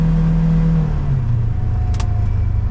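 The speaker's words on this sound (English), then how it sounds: "The throttle response, it's really fast. I'm barely touching the throttle." A Polaris Ranger XP1000 Crew Northstar side-by-side in performance mode: a steady, loud engine drone close by, its pitch shifting slightly as the throttle is lightly touched, with no voices.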